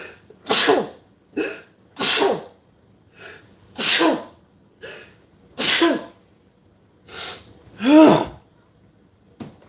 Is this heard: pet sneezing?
yes